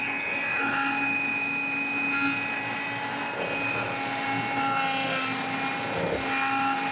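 A small motorized mini drill sander whines at a steady high pitch nearby, sanding battery terminals while building a LiFePO4 motorcycle battery, running continuously with slight changes in load.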